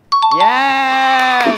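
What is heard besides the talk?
Windows computer error sound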